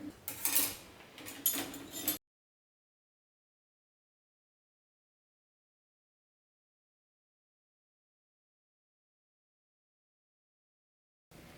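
Bowls, milk and tea pans, cups and utensils clatter as they are stacked into home dishwasher racks, a close, brief burst of clinking for about two seconds before silence.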